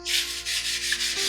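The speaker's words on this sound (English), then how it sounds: "And now on the other side I'm applying beeswax with linseed oil." Beeswax mixed with linseed oil is rubbed onto wood in several smooth, close strokes, each a soft rhythmic swish.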